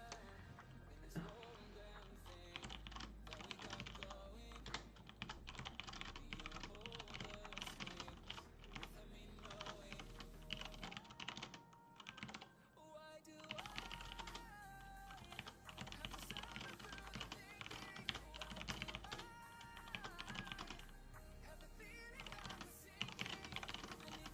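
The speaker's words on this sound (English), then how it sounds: "I'm just typing this in, make sure people know." Steady typing on a computer keyboard during a live stream, dense rapid key clicks and clatter running continuously for about twenty-four seconds, close and moderately quiet, with faint background tones underneath and no talking.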